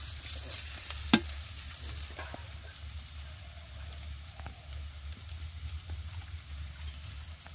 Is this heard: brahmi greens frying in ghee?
yes